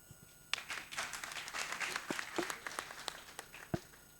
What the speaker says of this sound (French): Les applaudissements sont très faibles.